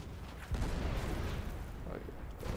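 Broadside ship cannons booming in Blazing Sails, a heavy low blast at the start followed by sustained rumbling fire and noise.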